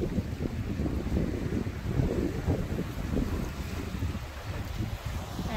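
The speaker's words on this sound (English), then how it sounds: "waves from the ocean." Ocean waves below a cliff in San Francisco, heard as a continuous low, rumbling wash mixed with heavy wind buffeting the microphone, with no clear individual breaks.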